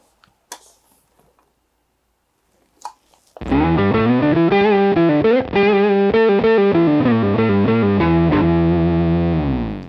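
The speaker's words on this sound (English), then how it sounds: "I'm gonna roll it up just so you see how it gets buzzy." Buzzy low-octave gain tone from a Beetronics Zzombee Filtremulator pedal, played on guitar: a few faint string taps, then a loud, fuzzy, distorted sustained chord with an octave-down growl rings steadily for several seconds.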